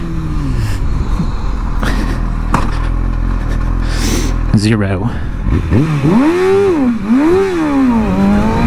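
A motorcycle launches from a stop toward 60 mph, its engine note rising through several gears with clear pitch sweeps and shifts, loud and close, mixed with wind noise and a voice speaking.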